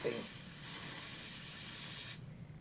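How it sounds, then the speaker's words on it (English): Spray bottle misting product onto a closure wig during a wig install, a steady close hiss of about two seconds that cuts off abruptly. "But I'm gonna just spray it because I don't know if I want a side part or a middle part yet."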